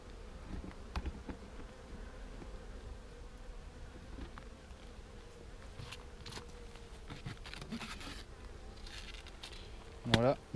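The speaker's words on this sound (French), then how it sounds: "J'ai pas vu que j'avais des abeilles." Honeybees drone around a beekeeper opening an apiary hive in a September inspection, a low steady hum with scattered handling clatter and brief voices, ending in a short louder burst of buzzing close by.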